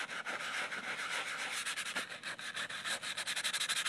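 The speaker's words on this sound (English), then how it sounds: "And just gently scrubbing." A soaked birdhouse gourd is gently scrubbed with steady, close rubbing strokes, a continuous abrasive scraping that pulses faster toward the end, with no voices.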